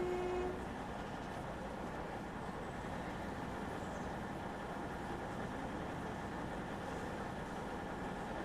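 A diesel train on the Riviera Line in Train Sim World 6 runs with a steady, loud engine drone and rolling rumble, constant throughout with a brief tone at the start.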